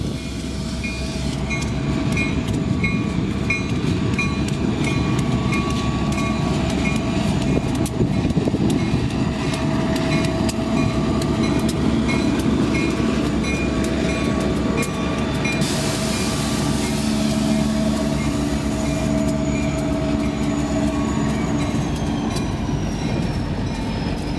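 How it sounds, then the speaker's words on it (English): A train, locomotive 502, rumbles steadily north past close by in Iron Mountain, wheels clacking and occasionally squealing, a loud continuous roar that never lets up. "people don't like waiting for trains in Iron Mountain."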